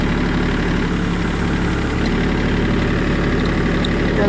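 A small Kubota tractor engine runs steadily and loudly up close, a constant low diesel chug with no pauses and no talking.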